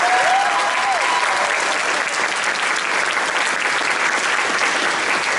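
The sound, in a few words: audience applause for a jazz ensemble solo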